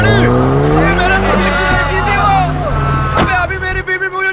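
A stolen car speeding away in a film scene, loud engine revving with tire squeal and skidding, under shouting voices and background score.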